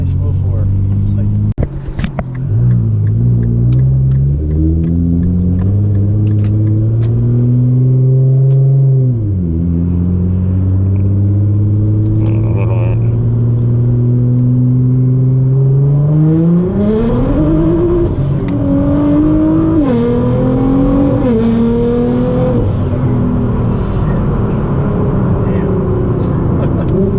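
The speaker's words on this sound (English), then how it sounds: "Lighting up all 4 tires." Nissan GT-R R35 engine revs and accelerates hard, loud rising and falling rumbling pitch sweeps through gear changes with tires lit up, voices talking underneath.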